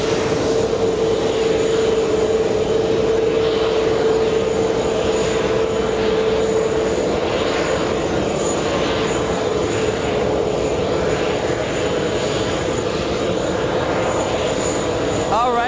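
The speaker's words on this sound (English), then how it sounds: "We have an arrival coming in very hot. We have a 767-400." A Boeing 767-400 airliner arrives on the runway at JFK airport, a loud, steady engine roar with a sustained whine, continuous and close throughout, with no voices.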